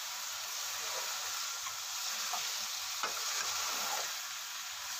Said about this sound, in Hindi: साथ ही इसे चम्मच में हिला दूंगी।